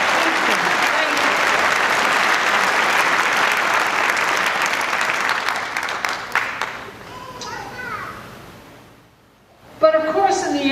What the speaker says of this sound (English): Let's give them an applause too.